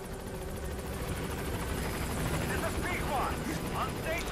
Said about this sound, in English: We'll see what they tell me when I get in the helicopter now.